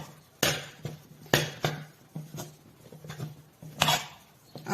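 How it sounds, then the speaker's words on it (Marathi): Rice flour being mixed into hot water in a pot for ukdiche modak: a spoon thuds and scrapes against the vessel in uneven strokes, close and fairly quiet, with several sharper knocks. "आता मिक्स करून घेऊयात."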